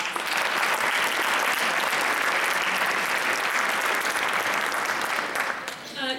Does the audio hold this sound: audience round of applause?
yes